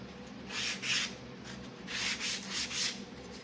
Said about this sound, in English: we'll scuff this up a little bit and go cross grain